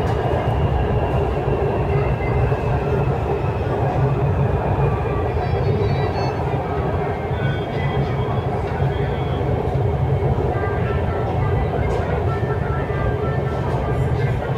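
Lahore's Orange Line metro train runs steadily, a continuous loud rumble and rolling hum from inside the carriage that holds unbroken for the whole stretch, with a faint voice underneath at times.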